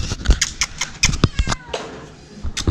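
Cats meowing in the medina of Chefchaouen, Morocco: a run of short, fairly close meows repeating every fraction of a second, with a longer wail near the end over faint street ambience.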